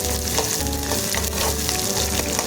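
Small onions fry loudly in hot oil for drumstick sambar, a dense continuous sizzle with occasional stirring scrapes and no voices.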